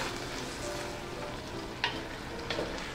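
Seafood pancit canton cooks in a pan with a soft, continuous sizzling hiss, faint and close, broken by a couple of brief clinks or stirs, no talking.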